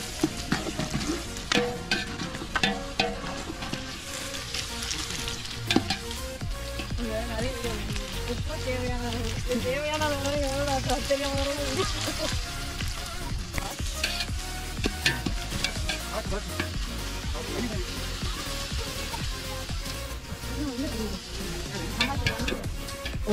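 Onions sautéed in a pan at the start of a biryani, a long steady frying sizzle with occasional clinks and scrapes of stirring, close by, while faint background voices and activity carry on.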